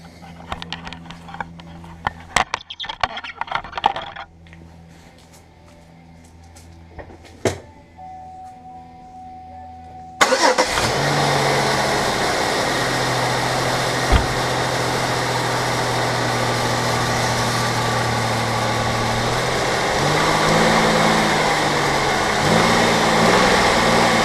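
A Pontiac Grand Am engine is cranked and starts after some quiet clicks and knocks, then settles into a loud, steady idle that runs on alone with slight pitch changes.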